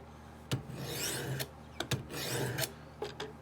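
Abrasive sharpening stone drawn across a knife blade on a Wicked Edge sharpener, giving several raspy rubbing strokes separated by sharp clicks of contact, close and fairly quiet.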